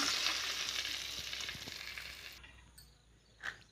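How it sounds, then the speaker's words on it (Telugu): Tamarind juice poured into a hot frying pan makes a loud, bright sizzle that gradually fades, then cuts off into quieter bubbling, with a short clatter near the end. "ఇప్పుడు ఇందులో చింతపండు పులుసు అయితే పోస్తున్నా."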